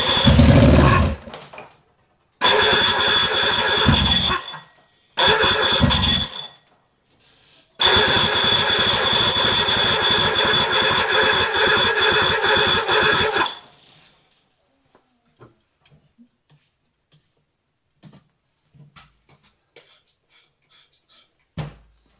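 A 1986 Mercury 90 hp outboard boat engine cranked on old, long-stored gas: several loud bursts of cranking and sputtering, then a longer run of about five seconds that dies, followed by near silence with faint clicks.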